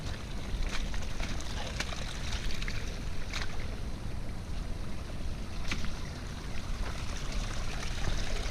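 Water rushing down a flooded hiking trail on Mount Mitchell in North Carolina, a steady close wash of flowing runoff with brief splashy bursts, continuous and fairly loud throughout.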